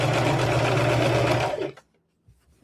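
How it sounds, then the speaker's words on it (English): A sewing machine stitches a one-inch seam around a rag quilt, running as a loud, steady close whir for about a second and a half before stopping abruptly, followed by quiet handling sounds. "I'm just going to sew around the whole quilt"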